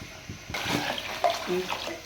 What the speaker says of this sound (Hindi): तो अब हम इसमें डाल देंगे पानी।